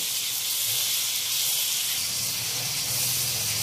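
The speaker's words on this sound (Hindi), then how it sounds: "अच्छी तरह हमें इस ऑयल में इस मसाले को पकाना है" Masala spices fry in oil in a pan for chicken masala curry, giving a steady, close sizzling hiss that continues evenly throughout.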